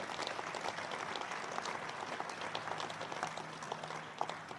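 An outdoor crowd at a building's topping off ceremony for a veterans home applauds steadily, a soft, even wash of many hands clapping at a moderate distance.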